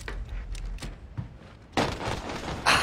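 Gunfire in an online shooter video game plays as a few sharp bursts of shots separated by short gaps, moderately quiet and heard alone.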